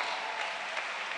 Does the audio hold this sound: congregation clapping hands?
yes